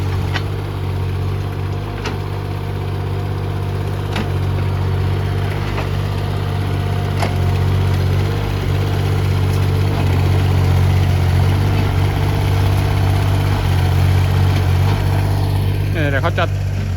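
A mid-pitched engine of a JCB 8035 ZTS mini excavator runs steadily throughout, a constant low mechanical drone with occasional faint clicks and clanks over it.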